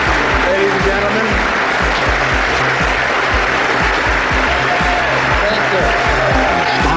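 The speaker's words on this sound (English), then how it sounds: "He is getting an applause, not necessarily from the reporters, but from the Justice Department employees who are, as you see, lining the balcony." Justice Department employees lining a balcony applaud in a steady, loud wash of clapping that continues throughout, while someone speaks over it.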